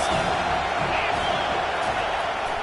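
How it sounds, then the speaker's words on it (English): Football stadium crowd on third down, a dense, loud, sustained roar of cheering voices filling the space evenly throughout, with no distinct individual talk standing out. "this crowd is tearing the lid off this place"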